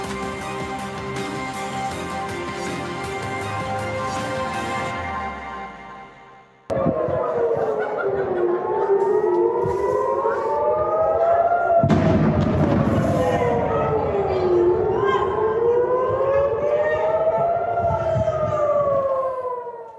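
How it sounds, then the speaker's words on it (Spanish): Air raid sirens wail across Jerusalem, several loud overlapping tones rising and falling in long sweeps, following a few seconds of a different steady tonal sound. "Esas sirenas que han escuchado no se oían en ese lugar desde el año 2014."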